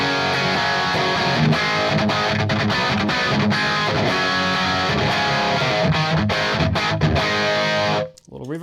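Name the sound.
guitar through Lion distortion pedal at high aggression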